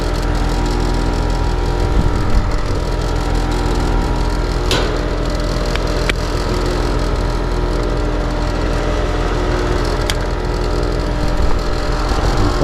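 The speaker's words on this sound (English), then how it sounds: "I know I can hear that compressor running." An air compressor runs with a steady, close mechanical hum, unbroken apart from a few faint knocks.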